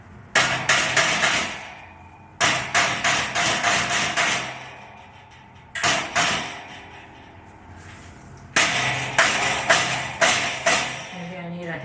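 A hammer raps a metal shelf into place in bursts of rapid, sharp knocks, several quick blows per burst with short pauses between, loud and close.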